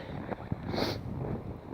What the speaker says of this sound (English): Windy as due south, so sorry if it gets a bit windy.